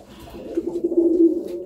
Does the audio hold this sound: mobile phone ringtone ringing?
no